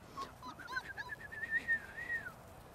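A person whistles to call a litter of four-week-old puppies, a series of short rising and sliding whistle notes, faint and somewhat distant over quiet background hiss.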